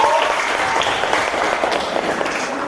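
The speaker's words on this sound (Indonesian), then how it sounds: "Oke, tepuk tangan untuk kita semua." A group of teachers at a school supervision workshop claps together after an ice-breaking game, a brief burst of dense, even applause that stays loud and close and fades slightly at the end.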